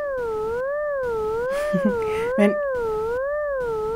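A Desmos graph turned into sound: a steady tone whose pitch wobbles slowly up and down in even waves, heard close and continuous, with a few brief faint noises partway through.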